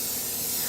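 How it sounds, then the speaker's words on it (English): Canola oil cooking spray released onto a warm skillet in one short, steady, close hiss lasting under a second, with no talking. "I'm gonna go ahead and just spray it with a little bit of canola oil cooking spray"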